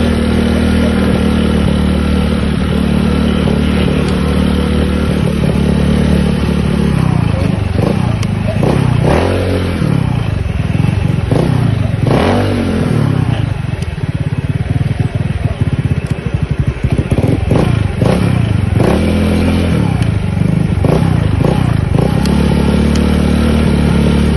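A Yamaha Mio Sporty motorcycle on a test drive after a digital speedometer install, its engine running steadily and loudly throughout with a few revving swells, and some voices faintly underneath.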